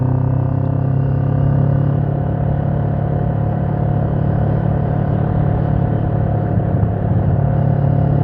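Motorcycle engine running steadily as the rider shifts up through the gears without the clutch, a constant close rumbling drone with subtle pitch changes between shifts and no talk over it.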